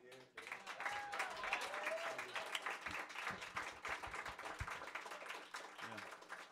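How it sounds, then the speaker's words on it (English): Audience applause at a small live rock show, a steady burst of clapping from the crowd lasting several seconds, fairly close and full, with a few cheers. "Another round of applause for everybody here."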